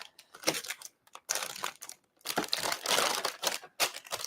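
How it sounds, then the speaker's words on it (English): Close, loud crinkling and rustling of plastic packaging being handled, coming in irregular bursts separated by short pauses, with no talking over it. "It's very rustly, that plastic."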